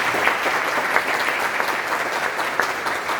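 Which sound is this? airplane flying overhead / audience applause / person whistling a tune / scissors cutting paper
audience applause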